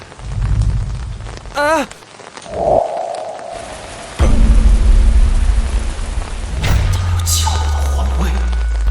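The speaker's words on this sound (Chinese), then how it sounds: "雨下的不大" Rain falls steadily in an old Ming-era city street, a dense hiss that swells louder partway through, mixed with rumbling and voices speaking over it.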